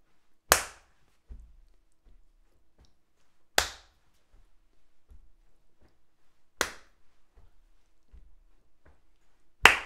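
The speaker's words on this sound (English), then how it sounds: "Clap on four" Steady hand clapping on the fourth beat in a group singing class: four crisp, loud claps land at even intervals of roughly three seconds, with faint muffled taps ticking off the silent counts between them.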